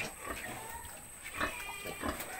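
Twenty-day-old piglets grunt softly in a farm pen, with a few short, low snorts scattered across the moment over a faint background hum, at moderate distance and fairly quiet.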